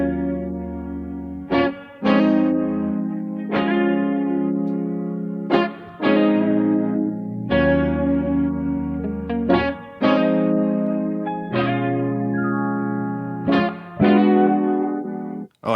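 Separated melodic parts of a music track, split into stems by the LANDR stem separation plugin, play as loud, dense, effects-heavy tones with sustained chords shifting every couple of seconds, alone without voices.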